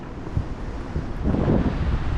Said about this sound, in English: as you can hear, it's still pretty windy here